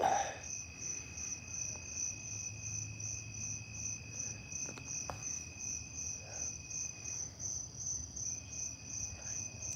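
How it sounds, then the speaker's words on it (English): Crickets chirp in a constant high, pulsing trill, with a few faint knocks and soft movements nearby. "I love the crickets."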